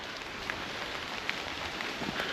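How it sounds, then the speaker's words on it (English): Heavy rain pours steadily onto woodland trees beside a solo tent campsite, a dense, even hiss that never lets up, with scattered heavier drips and no voices. "You can really hear the rain coming down on trees now."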